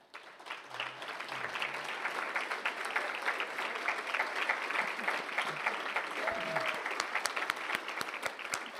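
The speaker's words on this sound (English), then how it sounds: "would you all please stand up and give these guys a round of applause?" An audience at the Austin Board of REALTORS annual meeting applauds volunteer committee members with sustained, even clapping heard from a moderate distance, a few voices rising faintly beneath it.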